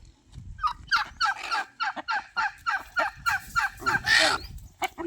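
A native country hen (nattu kodi) clucks in a rapid, rhythmic series of close, loud calls, ending with a harsher squawk, with no one talking over it.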